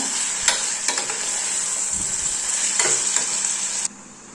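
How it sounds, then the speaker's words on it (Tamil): Tomatoes sautéing in a pan for Tamil drumstick and dal sambar, a steady close sizzle with a few scraping stirs of a spoon, cutting off abruptly near the end. "போட்டு தக்காளி நல்லா வேகிற வரைக்கும் வதக்கி விடுங்க"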